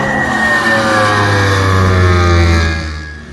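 A race car engine on the Taupo circuit revs loudly and steadily, pitch climbing smoothly as the car passes close by, then fading slightly at the end.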